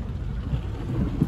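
Heavy rain pours steadily during a thunderstorm in Big Bear, California, with a deep rolling rumble of thunder running beneath the constant downpour and no voices.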